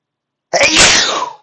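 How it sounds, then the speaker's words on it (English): A single loud sneeze bursts out close to the mic, sharp and breathy, then fades within about a second, with silence before it. "that's like the sixth time I've sneezed this stream."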